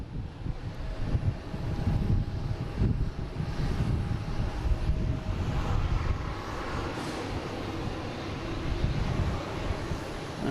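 A jet airliner bound for Rome takes off at Boston Logan International Airport, a steady loud engine roar that holds across the whole stretch, with wind buffeting the microphone.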